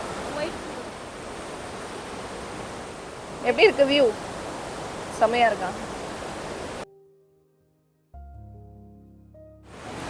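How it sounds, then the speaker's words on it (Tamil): A milky white river rushes past on both sides near a private waterfall at a jungle resort in Sakleshpur during the monsoon. A steady, close water roar sits under a few spoken words, then cuts off abruptly near the end. "லெஃப்ட் அண்ட் ரைட் ஒரு ரிவர் அரிஞ்சு போயிட்டு இருக்கு"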